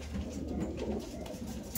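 A pair of black Lahore pigeons, a male and a female, coo nearby in a continuous low, throaty burble, steady and unbroken with no talk over it.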